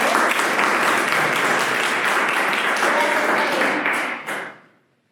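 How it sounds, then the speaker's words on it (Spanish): An audience claps in sustained, dense applause to welcome a guest speaker at a church youth talk. The applause stays full for about four seconds, then dies away quickly into silence. "recibámoslo con un aplauso, por favor"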